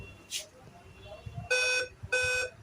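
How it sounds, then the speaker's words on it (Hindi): A Dell laptop that powers on with no display sounds a two-beep error code: two loud, steady electronic beeps in quick succession, heard over quiet background noise and a faint earlier chirp. "आप देखेंगे बीप साउंड कितनी जोर से दे रहा है। ये 2 बीप दे रहा है"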